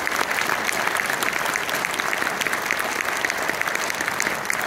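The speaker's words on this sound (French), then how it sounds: "On vous remercie 1000 fois, on vous applaudit très fort." A cinema audience at a film premiere in Orléans gives a steady, dense round of applause filling the room, with no voices over it.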